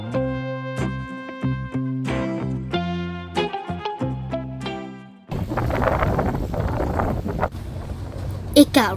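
Wind gusting at Silver Lake on California's June Lake Loop, rough buffeting roar against the microphone that takes over after a stretch of plucked music.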